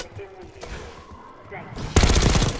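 Quiet game ambience with faint scattered noises, then a sudden loud burst of rapid automatic gunfire from a lower floor in a video game that keeps rattling to the end.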